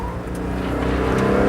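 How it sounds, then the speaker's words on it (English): Car driving through a corner on a bitumen road, the engine droning steadily and building slightly in level, close and loud with no talking. "But the car's still heading in a straight line."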